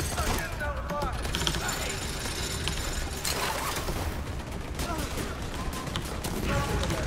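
Video game gunfire rattles in dense rapid bursts while players shoot at a boss, with mechanical clicks and clatter mixed in and voices talking over the shooting.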